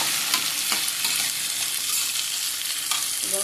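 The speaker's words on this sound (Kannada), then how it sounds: "ಕಟ್ ಮಾಡಿಕೊಂಡಂಥ ಗವರನ್ನು ಹಾಕ್ತೀನಿ. ಚೆನ್ನಾಗಿ ಫ್ರೈ ಮಾಡಬೇಕು ಎಣ್ಣೆಯಲ್ಲಿ." Chopped cluster beans sizzle loudly in hot oil, a constant bright frying hiss with a few stirring scrapes on top, close and alone without speech.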